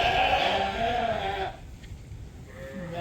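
Sheep on a sheep farm bleat loudly in a steady overlapping chorus at feeding and weaning time, fading briefly to a quieter stretch before more bleats rise again.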